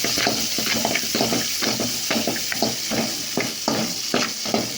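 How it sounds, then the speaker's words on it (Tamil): Large onions frying in a pan until brown, a continuous close sizzle broken by regular scraping stirs roughly every half second, with no talk. "பெரிய வெங்காயம் போட்டிருக்கிறோம் நல்லா ப்ரௌன் கலரில் வச்சுக்கலாம்"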